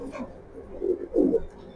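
A racing pigeon hen of good club line coos in two soft, throaty bursts, the second louder, close by against a quiet room.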